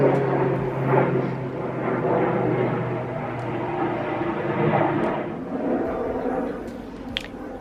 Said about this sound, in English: Oh wow, I didn't know there was planes still flying.